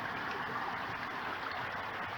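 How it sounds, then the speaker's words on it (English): Faint, continuous rushing of a stream flowing beneath a small bridge, steady and even throughout with no voices. "Listen to the water flow."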